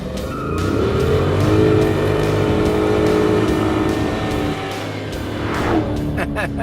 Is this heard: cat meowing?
no